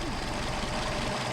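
A Mercedes 190SL engine idles on twin Solex 44PHH carburetors, a steady low rumble and throb running continuously at moderate level.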